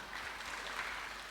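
A church congregation applauds, a steady wash of clapping from many hands heard at a distance, faint and even for a brief moment.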